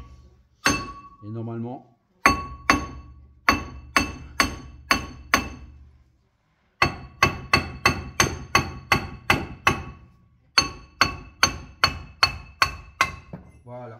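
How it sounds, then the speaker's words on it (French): A small hammer taps on a brake disc on a Peugeot 208 with automatic gearbox to loosen it. Quick clusters of sharp, ringing metallic knocks come close up, with short pauses and a brief spoken phrase. "Ensuite, un petit marteau pour le décoller un peu le disque."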